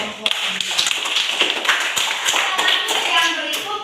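A classroom crowd claps steadily for a student group, a dense patter of many hands with a few sharper individual claps, while a voice speaks faintly underneath.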